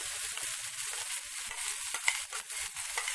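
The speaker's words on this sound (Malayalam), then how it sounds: "അതിനുശേഷം നമ്മൾ അരച്ചു വെച്ചിട്ടുള്ള ചട്നി കൂടി ചേർക്കാം" Ground chutney goes into a sizzling tempering of mustard seeds, curry leaves and dried chili and is stirred through. Bright frying hiss runs under repeated scraping strokes of the spoon, heard close up.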